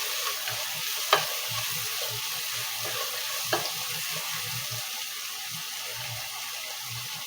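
Bitter gourd sautéing in a pan with onion and garlic: a steady hiss of frying under repeated scraping stirs, with a couple of sharper utensil clinks.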